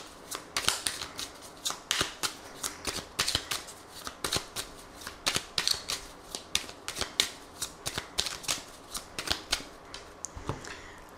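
Oracle cards being shuffled by hand, a rapid series of crisp papery riffles and flicks in irregular bursts, close and fairly quiet with no talking.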